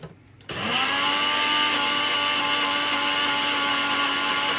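A blender whirs to life after a brief quiet moment, blending ingredients for a feta and tomato filling for oven-baked chicken, then runs steadily and loudly with a constant motor whine until the end.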